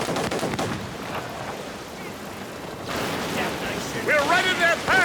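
Ship cannons boom during a naval battle in the video game Assassin's Creed Rogue, as a rough volley of blasts and rumbling fire over sea ambience, with raised voices near the end.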